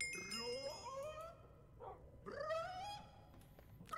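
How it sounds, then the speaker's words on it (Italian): A small dog whimpers and whines in rising, falling cries, close and fairly faint, with a short pause before another drawn-out whine. "Grazie Neko per la compagnia. Il cagnolino Neko."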